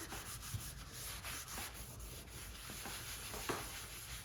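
Wax is buffed in circular motions onto a painted wooden board, a faint, steady close rubbing with soft occasional taps, no speech.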